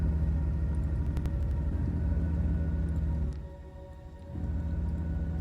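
A hovercar in a video game gives off a steady, low rumbling engine drone that dips quieter for about a second before swelling back up, with no talk over it.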